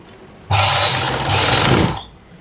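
A sewing machine runs in one short, loud, steady burst of about one and a half seconds while stitching a star neck blouse, with quiet room tone before and after.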